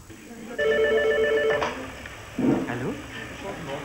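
A telephone rings indoors in two short electronic trills, near and clear, followed by a voice answering over faint room noise.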